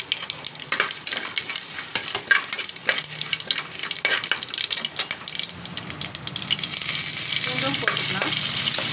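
Lentils, split chickpeas and dried red chillies frying in oil, a crackling sizzle broken by stirring scrapes, growing into a steadier, louder hiss toward the end.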